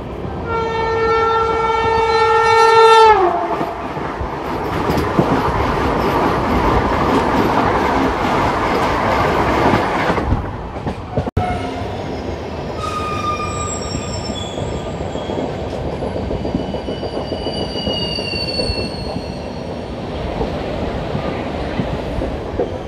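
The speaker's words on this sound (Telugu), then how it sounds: "Vande Bharat is coming" A Vande Bharat express train sounds its horn in long tones, then thunders loudly past at close range with a sustained rumble and rattling wheels, later giving way to squealing wheel tones as it moves on.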